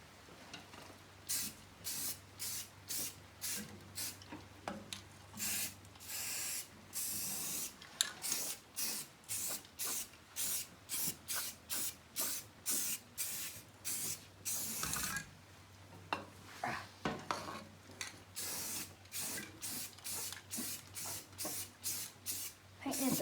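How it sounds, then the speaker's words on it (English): An aerosol can spraying light, thin coats of paint onto a car part in a cramped garage space. Dozens of short, close hissing bursts repeat in a steady rhythm, broken by brief pauses. "Painting it the same way I did the hood. Light, thin coat."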